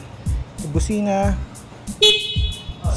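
A Suzuki V-Strom 250 motorcycle horn sounds in one steady, bright honk of about a second, following a shorter earlier beep, with someone talking before and after.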